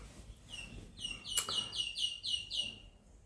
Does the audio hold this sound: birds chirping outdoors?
yes